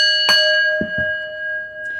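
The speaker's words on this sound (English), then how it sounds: "Let's ring the bell on that." A bell rings once in a bright sustained tone with long ringing overtones, followed by a couple of faint low knocks, close and clear with no talk.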